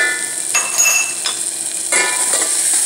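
Onions and hing frying for dal in a pan, with a steady broadband sizzle and a few scraping stirs of a utensil breaking through, close and fairly loud, no voices.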